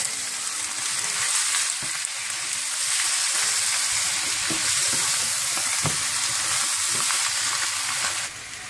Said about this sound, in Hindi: इसको अच्छी तरह से आप मिक्स कर लें और भून लें।